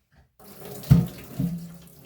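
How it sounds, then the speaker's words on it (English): Cold tap water gushes briefly over boiled potatoes in a pot, a short close splashing burst. "is run some cold water over them"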